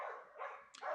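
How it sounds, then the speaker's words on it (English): Dogs bark in short, fairly faint yelps and woofs, a few quick calls in a row with no talk over them. "dogs."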